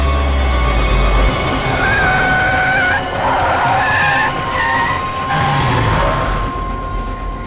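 A car brakes hard, its tires squealing in long skids with a rising engine note, loud and close, ending in a stop.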